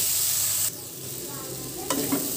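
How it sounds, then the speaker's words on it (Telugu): Chana dal fries in hot oil for a cabbage stir-fry, a soft sizzle with stirring, and a brief scrape of the spoon near the end. "శనగబాళ్ళు ఆయిల్లో వేగడం వల్ల టేస్ట్ బాగుంటుందండి"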